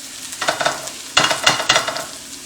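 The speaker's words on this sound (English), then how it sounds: "You want to cook this until the onion is nice and soft and translucent, a little brown, like you're seeing here." Diced onion and ham fry in a pan for shrimp fried rice, giving a steady crackling sizzle broken by a few louder bursts of stirring scrapes. The sound is close and busy, with no talking.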